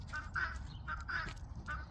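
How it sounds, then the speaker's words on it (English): A guinea hen perched on top of a coop gives harsh, honking cries in quick repeated pairs, loud and close over low outdoor background noise. "Don't mind the guinea hen. That's why my husband hates my guineas, because they're so freaking loud and obnoxious."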